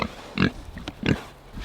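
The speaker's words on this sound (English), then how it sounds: "Hey, pigs." Pigs on a family farm give two short, close grunts about half a second apart, with quieter snuffling between them and no talk.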